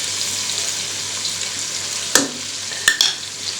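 Kabuli pulao masala frying with browned garlic and ginger in a pan, a continuous hiss of sizzling oil broken by a few sharp scrapes and clanks of stirring, close and alone.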